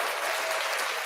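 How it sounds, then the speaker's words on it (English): A short, steady burst of applause lasting about a second, heard before a radio show's intro music. "I maybe that was a preemptive clap."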